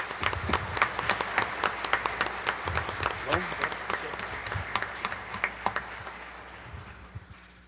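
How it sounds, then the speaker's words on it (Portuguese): Clapping from a congregation at a live Sunday Mass in a church, a dense, steady round of applause with sharp individual claps, mixed with voices and fading toward the end. "Quero pedir uma salva de palmas aos familiares."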